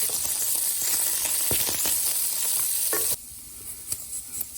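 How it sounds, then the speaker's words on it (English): Pork mince stirred and sizzling in a hot pan, a dense steady frying hiss with scraping stir strokes, dropping to a quieter crackle partway through; no talking. "just give it a good stir and see how those caramelised bits are going"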